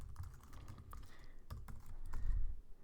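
Fingers type Java code on a computer keyboard in quick, irregular clusters of close, crisp key clicks over low background rumble.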